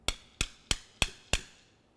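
A hammer strikes a punch on the ear of a 2004-2006 Scion xB front wheel hub, giving five sharp metallic blows at an even pace, close and loud with short ringing decays.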